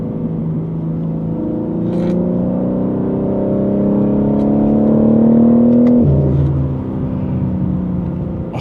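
A new BMW G80 M3 with installed intakes revs while driving, its engine note climbing steadily through a long pull, then dropping sharply at a gear change before building again, loud from inside the car.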